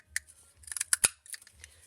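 Scissors snip through paper scraps for card making, a quick run of close, crisp cuts in an uneven rhythm with no talk.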